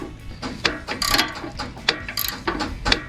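A ratchet's pawl clicks in repeated quick bursts while loosening a nut on the drag link of a Jeep Wrangler JK during a RedRock drag link install, the mechanical clatter close and fairly loud with no talking.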